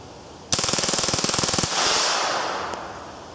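A burst of full-auto fire from an AR-15 fitted with a Colt .22 conversion kit, about twenty rapid, evenly spaced sharp cracks, loud and close, then a fading echo with no talking.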